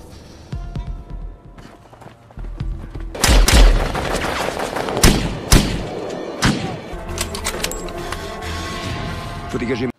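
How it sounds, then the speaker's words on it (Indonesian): Gunfire exchange in a film ambush scene: a run of loud, close gunshots and heavy thuds around the middle, over a rumbling, busy soundtrack with speech-like voices mixed in. "langsung mengerahkan pasukannya untuk sebuah penghadangan sehingga baku tembak pun tak dapat terhindarkan lagi"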